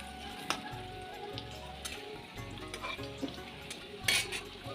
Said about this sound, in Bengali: তেলের মধ্যে আলুগুলো দিয়ে দিলাম এরপর ভেজে নেব